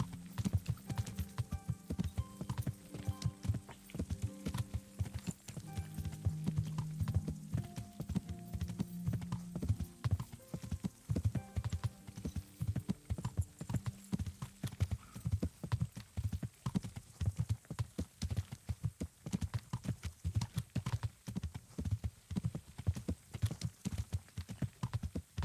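Steady clip-clop of horse hooves from the medieval video game Kingdom Come: Deliverance, continuous and rhythmic throughout with a brief whinny and soft game ambience underneath, no speech.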